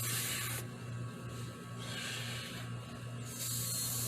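Spray primer hisses from an aerosol can onto a 3D-printed Aliens head, in several short bursts with brief pauses between them, close and fairly soft over a low hum.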